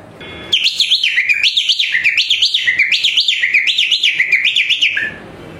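A person whistles a rapid, warbling birdlike trill that rises and falls in steady repeated pulses, mimicking a reversing-vehicle chirp. It is loud, close and continuous for about four and a half seconds, with no other sound.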